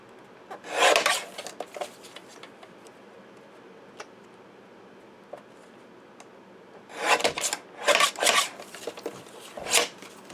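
A foil sheet is cut with rasping, scraping strokes in two clusters separated by a quieter stretch of faint ticks, close and fairly crisp.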